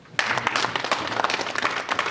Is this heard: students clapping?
yes